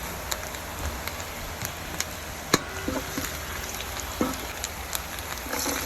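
Anchovies (dilis) frying in a pan with onion and ginger, a soft continuous sizzle with scattered pops and light crackles, steady and close, with no talking.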